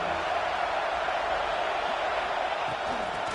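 Stadium crowd in a college football video game matchup against Penn State, a steady, dense roar of cheering that holds at an even level throughout, with no distinct voices rising above it.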